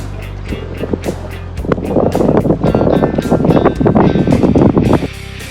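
A sailboat's engine chugs loudly close by at sea with a rough rhythmic knocking, starting up after a brief quiet moment and running steadily before cutting off.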